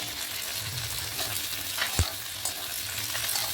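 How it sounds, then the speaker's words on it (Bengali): Capsicum and onions stir-fry in a pan for chilli paneer. A steady soft sizzle is broken by a single sharp clack of the spatula, with no talking. "পেঁয়াজটা একটু ভাজা ভাজা হয়ে গেছে, এর মধ্যে দিয়ে দেবো আমি ক্যাপসিকাম"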